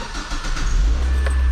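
A car engine starts up in a school auto shop during an oil change, loud and close, catching quickly and settling into a low steady idle rumble.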